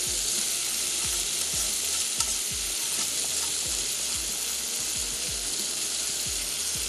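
Maida flour dry-roasting in a frying pan, a steady bright sizzle with repeated scraping strokes of a spatula stirring it, close and continuous.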